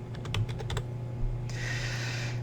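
Quick keystrokes on a computer keyboard while renaming a sprite in Scratch, a short run of light clicks followed by a soft steady hiss, alone and fairly quiet.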